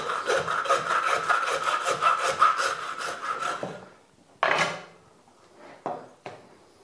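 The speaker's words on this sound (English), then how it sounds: "And then we're sawing directly down the tail." Rapid back-and-forth sawing strokes grind down through a deer's tail bone for a few seconds, then stop, followed by a couple of sharp scrapes and knocks.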